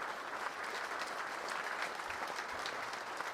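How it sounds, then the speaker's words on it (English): An audience at the Northeast Dirt Modified Hall of Fame induction ceremony applauds an award recipient, a steady, distant wash of many hands clapping with no voices, fairly quiet throughout. "How about a round of applause once again for Ace Lane Jr., ladies and gentlemen."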